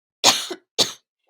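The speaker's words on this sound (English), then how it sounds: "I have like this stinking cough." Two sharp, close coughs from one person, a heavier hacking burst followed by a shorter one, then quiet; a person suffering a lingering bad cough.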